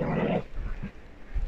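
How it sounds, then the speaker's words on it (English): Dogs indoors let out a burst of whining and low growling up close, then quieter grumbles and a brief rumble, with no speech over them. "calm down dogs"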